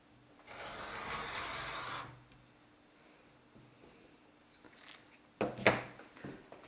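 A rotary cutter runs along a ruler through fabric on a cutting mat for an op-art kaleidoscope quilt, a soft close rolling swish lasting over a second, followed by faint handling clatter and a few brief knocks.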